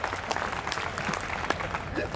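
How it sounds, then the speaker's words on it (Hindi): Audience applause at a Hindi stage event with a speaker, scattered claps over a crowd murmur, moderate and somewhat distant, with voices mixed in. "तालियां जोरदार होनी चाहिए।"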